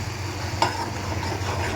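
Boiled chana dal with masala cooks in a pan with a low, steady sizzle and one brief scrape of a stirring spoon, close by, with no talking.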